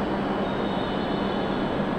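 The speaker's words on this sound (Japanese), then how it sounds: "列車が到着します。" A train arrives at a platform of Toyama Station with a broad, steady roar of wheels and running gear, loud and continuous throughout with no talk.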